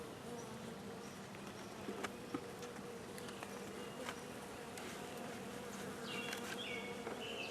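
Honey bees buzz during a hive inspection, a soft close drone with individual bees zipping past the microphone in brief louder passes, no talking heard.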